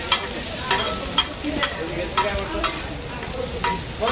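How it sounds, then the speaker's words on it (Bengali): Rice is stir-fried with dried chillies in a hot pan at a roadside eatery on a rainy night, a steady sizzle with the spatula clacking in regular strikes about every half second. "রাইস ভাজা দিচ্ছে এখন, সাথে শুকনো মরিচ।"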